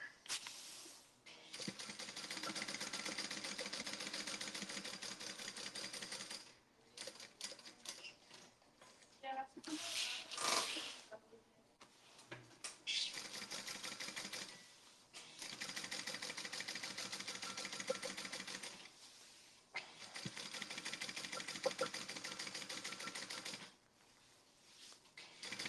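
A sewing machine tacks fabric for a tote bag, running in long steady bursts of several seconds each with short pauses between them. A faint voice talks in the background.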